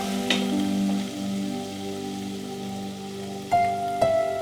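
Ginger and green chilies sizzling in hot oil with a mustard-seed and cumin tempering for bread pakoda masala, a steady close frying hiss under a humming background, with a few sharp pops and clinks.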